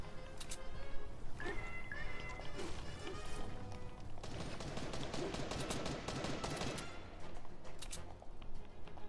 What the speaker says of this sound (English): Oh, he's shooting at people over here.